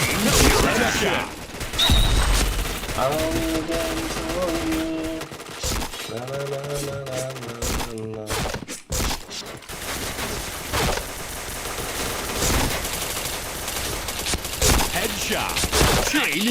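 Rapid gunfire bursts and impacts from a Mobile Legends match, dense overlapping shots mixed with game music and effects, with someone talking excitedly over the action.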